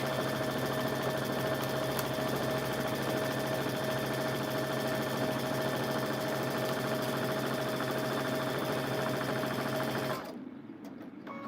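A sewing machine stitches a baby quilt at low speed, giving a steady, close mechanical whir with a constant hum for about ten seconds before it stops abruptly. No talking.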